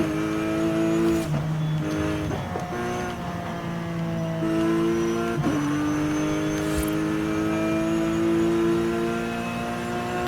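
A Porsche engine in the racing game Forza Horizon 5 revs hard and shifts gears, each rising tone cut by a quick drop at the shift, loud and continuous with no talking.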